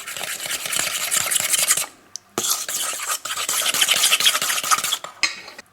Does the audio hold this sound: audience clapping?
no